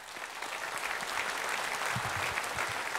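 A crowd at a church service claps together in sustained, even applause, fairly distant and steady from start to finish.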